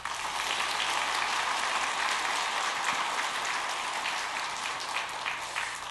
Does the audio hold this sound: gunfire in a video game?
no